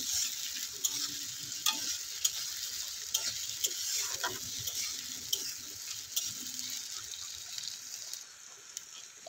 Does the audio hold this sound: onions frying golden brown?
yes